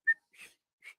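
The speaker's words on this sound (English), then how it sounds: "I hate whistling" Three short whistled notes: a bright, sharp first note, then two softer, slightly lower ones after a gap. No talking.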